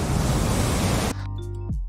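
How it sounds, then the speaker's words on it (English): Broadband rushing water noise cuts off abruptly into a muffled, low-pass filtered underwater effect with tonal hum, used as sound design for a manta ray flipping underwater. "we put the low pass filter on it to make those water sounds feel underwater"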